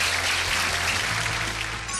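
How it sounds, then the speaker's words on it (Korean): Audience applause as the CEO of Hanam F&B is invited onto a stage at a food-industry lecture event, continuous full clapping from a large crowd, dense and even, with a low musical hum beneath. "큰 박수 부탁드립니다."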